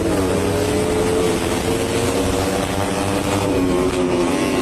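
Underbone motorcycles, a black Raider FI and a red RS 150, race past with loud, continuous high-revving engine drone and shifting pitch, dense and close throughout with no talk.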